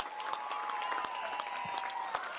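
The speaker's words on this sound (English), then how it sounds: "Let's give a round of applause to both teams on an unbelievable district final." A crowd applauds both teams after a baseball district final between Back Mountain and Kingston, a faint, distant patter of many claps that holds steady for a couple of seconds.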